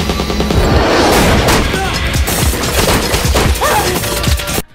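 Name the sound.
gunfire in a film shootout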